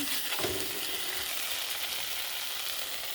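Spice paste fries and sizzles in a wok, a steady close hiss with a faint scrape of stirring near the start.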